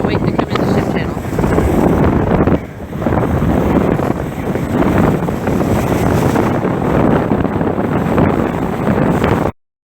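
Heavy wind buffets the microphone aboard a moving Galveston car ferry, with water rushing and a low engine rumble continuing steadily for several seconds.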